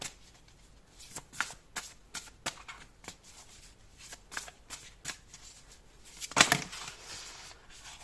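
A tarot deck is shuffled close up with soft, rhythmic card flicks and slides, ending in a brief louder riffle or snap as a card is drawn, faint overall.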